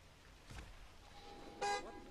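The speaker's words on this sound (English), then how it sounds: "hit the car alarm" Car alarm triggered in the Blackwater Park level of Hitman: Absolution, a short honking tone that sounds once and then returns louder after a pause, over low background game ambience.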